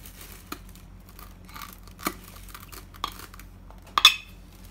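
A knife slices down the middle of a MuangThong durian: a few crisp, brief cracks of the husk splitting, spaced about a second apart, ending in a louder crunchy snap over quiet background.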